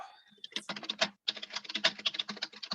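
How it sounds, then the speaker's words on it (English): Rapid, close typing on a computer keyboard during a Rotary Club video call, with dense clicking keystrokes in irregular bursts and a short pause midway. "Andy, we can hear you typing"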